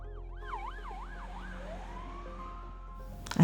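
An ambulance siren wails at a distance along a street blocked off by police, sweeping up and down in steady cycles before shifting to a long rising tone, with faint city hum underneath.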